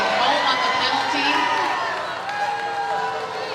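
Roller derby crowd at a men's final reacting against a penalty call, a loud, broad wash of voices, shouts and jeers that rises, then settles slightly, with announcer-like talk mixed in.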